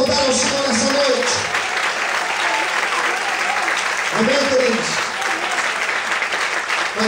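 A church congregation applauding in praise during an evening service, a continuous loud patter of clapping across the whole stretch, with a voice speaking over it at the start and again near the middle.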